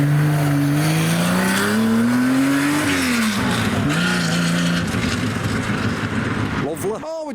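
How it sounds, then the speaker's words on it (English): A Lamborghini Countach sports car drives past on the road during a hypercar convoy gathering, its loud engine note rising and falling through gear changes and fading as it goes, with people talking over it. "Always good to see a Countach on the road. Sounds incredible."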